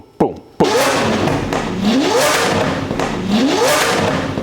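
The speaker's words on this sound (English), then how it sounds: "It's got the full 1016 kit, an FI straight pipe exhaust. This is an on-demand flamethrower. You rev it up, boom, boom, boom, boom." A car with a full 1016 kit and an FI straight pipe exhaust revs hard, rising and falling in repeated sweeps, loud and close, after a sharp pop at the start.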